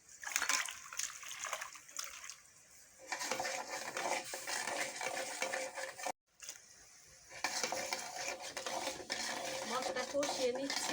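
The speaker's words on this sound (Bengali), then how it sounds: "মশলা কষিয়ে নিচ্ছি" Spices with chili powder being stirred and fried in a pan, heard as repeated scraping and clinking of a utensil against the pan over a soft sizzle, with a brief near-silent break midway.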